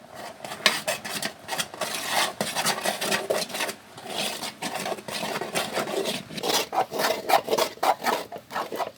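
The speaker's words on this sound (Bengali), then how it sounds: "এটা ঠান্ডা হলে এখন ভালো করে মথে নিতে হবে" Boiled flour dough for dal puri being kneaded by hand, a steady rasping, rubbing and slapping texture with irregular pulses, close and fairly loud, no voices.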